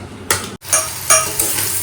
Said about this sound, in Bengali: কাঁচকলা ভাজাটা চাপালাম কড়া কড়া করে কাঁচকলা ভাজা করব